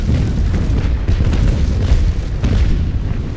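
Ship cannons fire in the naval combat game Naval Action, a dense rumbling barrage of deep booms rolling continuously at high volume with no gaps.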